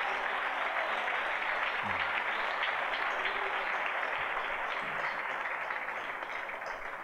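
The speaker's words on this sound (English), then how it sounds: "Let's give these folks a round of applause" Sustained audience applause for coaches at a local sports awards ceremony, a dense, even roar of many hands clapping that carries on for several seconds and fades slightly at the end.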